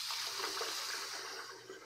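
Kombucha made with black tea is poured into glass jars, giving a soft, continuous, splashing hiss that fades slightly toward the end, heard alone.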